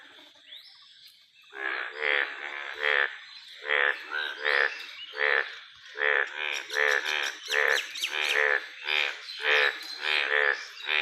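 Several frogs croak in repeated pulsing bursts, calling to mates at a park; the calls come in a steady rhythm, fairly close and loud, with some faint chirping in the background.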